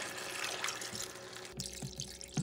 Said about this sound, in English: Add your broth.